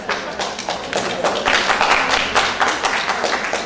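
A lecture audience claps together in a dense, steady burst of applause that holds fairly loud and even for a few seconds, with no voices over it.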